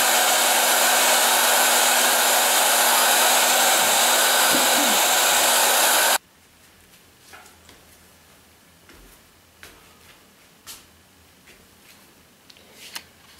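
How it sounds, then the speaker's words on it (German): A hair dryer on its cold setting blows steadily over a monotype printing plate, a loud continuous whoosh that cuts off abruptly midway, followed by quiet handling sounds and small taps. "ich nehme einen Föhn, stelle ihn auf kalte Stufe, sonst wird die Platte Schaden nehmen, und föhne das erstmal trocken"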